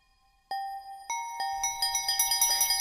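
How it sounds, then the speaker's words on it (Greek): An electronic school bell chimes, first in single spaced rings, then in quickening repeated strikes that build into a continuous ringing, clear and alone. "Το κουδούνι χτύπησε."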